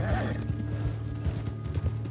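Hooves clip-clop steadily as a horse moves in the video game Red Dead Online, a regular close rhythm over a low background hum with a brief whinny-like tone at the start.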